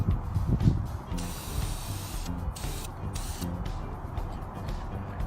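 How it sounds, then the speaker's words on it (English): A spray gun applying primer to the sides of a children's electric Jeep hisses in long bursts that start and stop, close by, over a low mechanical rumble and rattling. "Now I'm applying primer to the sides of the car."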